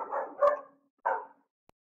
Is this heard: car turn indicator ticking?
no